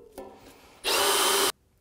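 A drill motor whirs briefly at low speed, then bites into the rocker panel metal of a 2000-07 GMC Yukon with a loud, harsh grinding burst lasting under a second before cutting off.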